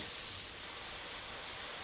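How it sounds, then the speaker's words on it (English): A Hookwash spray nozzle pressed halfway down releases a light, steady hiss of fine spray, continuous and fairly soft with a brief dip midway. "Nice and lightly spray."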